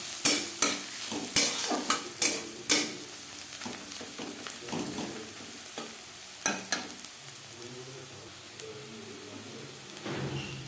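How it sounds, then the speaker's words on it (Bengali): Steady sizzling of onions and potatoes frying in a pan, broken by sharp scrapes and clatters of stirring; fairly close, no talking. "পেঁয়াজ ভাজা হয়ে এসছে"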